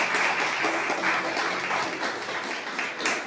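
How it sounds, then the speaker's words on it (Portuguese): A church congregation applauds for Jesus during a service: continuous, moderately faint clapping from many hands, slightly distant and roomy, with no voices over it. "Palmas para Jesus."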